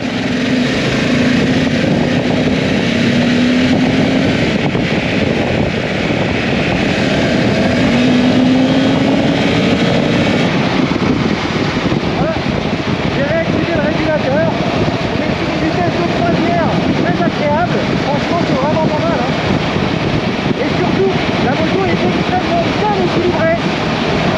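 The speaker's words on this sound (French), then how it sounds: "Je vous laisse apprécier le doux son du bicylindre." Honda NT 1100 twin-cylinder motorcycle engine accelerating on the road, a steady loud engine drone with rising tone through the run, continuous throughout with wind and road noise.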